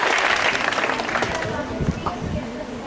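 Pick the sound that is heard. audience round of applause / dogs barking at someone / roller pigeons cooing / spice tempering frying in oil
audience round of applause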